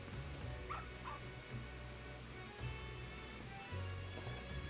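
A puppy in the video game Final Fantasy XIV yips and barks a couple of times, faint under steady game music.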